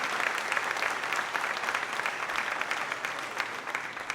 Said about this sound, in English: Yes, clap it up, clap it up,